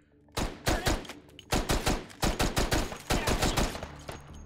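Gunfire in the VR shooting game Hot Dogs, Horseshoes & Hand Grenades, played on an HTC Vive, with a MAC-10 featured in the update: a rapid run of about a dozen sharp, close shots in uneven bursts.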